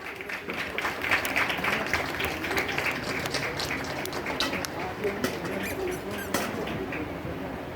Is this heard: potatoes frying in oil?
no